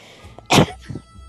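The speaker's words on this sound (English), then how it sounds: "that was just me sneezing" A single close, sharp sneeze from a man bursts out loudly, followed by a short softer breathy sound.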